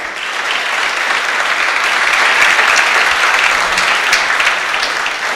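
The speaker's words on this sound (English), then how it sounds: "A very heavy round of applause for Absa Bank." A crowd at a closing ceremony for a school science and technology innovation challenge claps loudly and continuously, a dense, even wash of applause that holds steady throughout.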